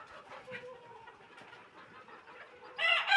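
Sonali chickens at a poultry sale cluck softly and intermittently, then a loud, close burst of squawking calls breaks out near the end.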